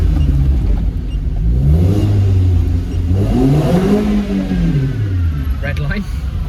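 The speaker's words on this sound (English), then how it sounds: "it's time to show you what my exhaust sounds like" BMW 1 Series E87 with a new exhaust revving in a car park, the loud engine note sweeping up and down through two rising and falling revs, close and dominant.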